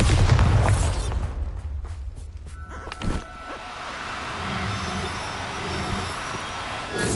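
A Bombarda blast spell goes off in Hogwarts Legacy, a loud booming burst at the start followed by a sharp crack mid-clip, then a low rumbling aftermath with faint game ambience.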